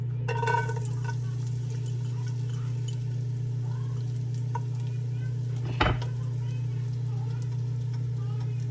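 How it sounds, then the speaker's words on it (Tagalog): Garlic drops into hot olive oil in a pan, with a short sizzle near the start and a brief clatter later over a steady hum and low background noise. "Mainit na yung mantika. So, gumamit po ako ng olive oil. Then, ihulog na natin yung bawang."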